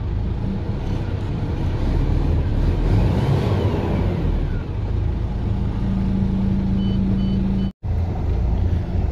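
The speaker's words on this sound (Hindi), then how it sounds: "दोस्तों स्टार्टिंग तो इसकी ठीक है अभी।" A MAN truck engine idles steadily after starting, a loud continuous low diesel rumble close by that runs the whole time, with one brief dropout near the end.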